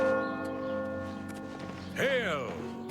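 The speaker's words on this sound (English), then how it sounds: "Okay, so I just got here and they started ringing bells." Church bells toll in a city in the video game Oblivion Remastered, sustained resonant ringing with a louder strike near the end, heard under a voice.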